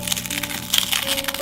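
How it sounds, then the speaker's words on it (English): Shattered glass backing on an OPPO phone crackles and crunches as it is bent back, a dense run of sharp close splintering snaps over a faint steady background tone. "Bending back the fractured glass,"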